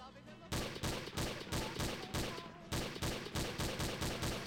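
Rapid bursts of gunfire ring out in Garry's Mod, loud repeated shots in quick volleys with a short pause partway, filling the scene almost without break.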